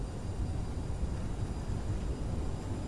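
CRJ900 thrust reversers roar on landing in a flight simulator, a steady, loud, broadband engine rush with a deep rumble that holds constant throughout, no talk.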